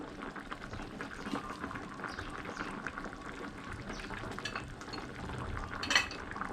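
A pot of tom yum pork leg soup with holy basil bubbles in a steady low rumble throughout, with a brief clink near the end.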